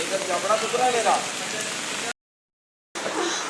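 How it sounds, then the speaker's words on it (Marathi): Heavy rain pours down in a dense, steady hiss, drumming on a surface close by, with a brief gap of silence before it resumes. "आज चिक्कारच पाऊस"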